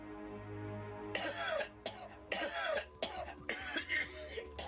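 A person coughs repeatedly in a series of four or five harsh, wet bursts with short gaps between them, close and fairly loud, with no talking.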